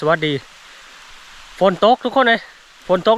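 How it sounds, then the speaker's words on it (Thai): Steady rain hisses softly in the background, continuous and diffuse, while someone talks over it in short bursts. "ฝนตกทุกคน"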